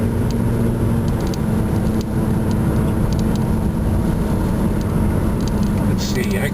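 Car interior on a drive through the country, a loud, steady road and engine rumble throughout with faint ticking and rattles over it.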